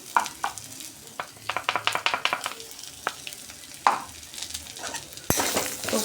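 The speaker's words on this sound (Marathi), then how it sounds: "तेलावर छान परतवून झाल्यानंतर त्याच्यामध्ये आपण मटार घालून घेऊया" Ground green peas frying in oil, stirred with a spoon in a pan, giving a steady sizzle under repeated scraping and tapping strokes, close and fairly loud, with a sharper clatter near the end.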